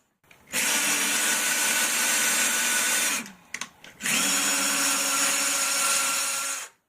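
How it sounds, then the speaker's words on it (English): A power drill whines loudly and steadily, drilling a pilot hole into a wooden stud, stops briefly with a few clicks, then runs again for several seconds. "it's always a good idea when you're drilling into a stud with lag bolts to pre-drill a pilot hole"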